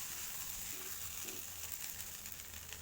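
Rice with carrot and beans stir-fried in a pan, a steady soft sizzle with faint scraping and stirring throughout, close and continuous.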